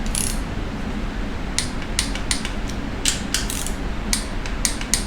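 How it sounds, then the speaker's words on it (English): 3/8 ratchet tightening cam bolts on an LS engine, a series of short close clicking ratchet bursts over a steady low background hum, with no talk. "I pretty well have them torqued up with the old 3/8 ratchet."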